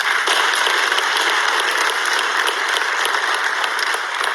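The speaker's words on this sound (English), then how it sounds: "it deserves a very big round of applause" Dense, steady applause from an audience at the 3rd Africa High Level Forum on South-South Triangular Cooperation in Sierra Leone, sustained and loud throughout with no pauses.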